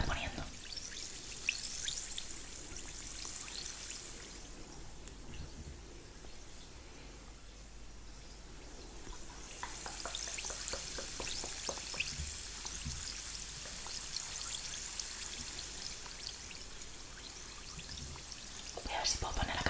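Bath bombs fizz in a tub of water with a soft, continuous crackling hiss and trickle, close and quiet, swelling and easing over time with faint gentle splashes.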